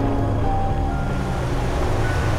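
Sea waves at Aarvi beach on the Konkan coast make a constant loud wash of surf, a dense unbroken roar with no distinct breaks.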